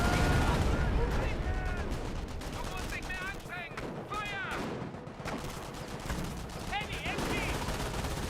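An artillery barrage and gunfire rage in the World War II strategy game Company of Heroes 1, with close, rapid machine-gun bursts and heavy impacts mixed with in-game voices shouting throughout.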